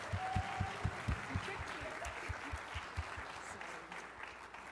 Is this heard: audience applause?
yes